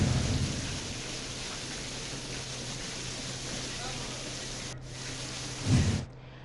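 Heavy rain pours steadily and loudly at Islamabad airport as floodwater fills the VIP lounge. A low thunder rumble swells briefly near the end before the sound cuts off.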